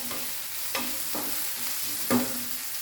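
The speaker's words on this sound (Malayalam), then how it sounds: "നമ്മൾ രണ്ട് സവാള രണ്ട് സവാള അരിഞ്ഞതാണ് സവാള ഹൈ ഫ്ലെയിമിൽ തന്നെ വെച്ചൊന്ന് പഴക്കിയെടുക്കാം" Sliced onions stir-fried in a pan on high flame for a green peas curry, a soft continuous sizzle broken by a few sharp spatula scrapes and taps, close and without speech.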